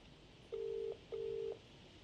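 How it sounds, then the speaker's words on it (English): Two steady electronic dial tones from a phone box in a video game, each lasting about 0.4 seconds with a short gap between, clear over a quiet background. "Is that the noise that means that you're calling or the noise that means you've been disconnected?"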